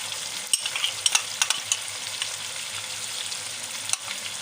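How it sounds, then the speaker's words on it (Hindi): Yogurt goes into chicken in a pan for a white karahi and is stirred, a steady sizzle punctuated by sharp utensil clacks and scrapes early on, close and alone. "अब इस दही को चिकन में शामिल कर दें"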